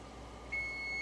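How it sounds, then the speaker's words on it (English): Stove timer gives a single steady electronic beep that starts midway and holds, clear but modest over a quiet kitchen background. "stove is going off, so we need to turn timer off"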